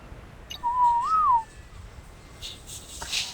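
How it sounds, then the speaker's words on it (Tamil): A whistle blown in the video game Ark Survival: one rising-and-falling whistle tone, about a second long and fairly loud, over a quiet background with a faint blip near the end. "விசில் அடிச்சாச்சு."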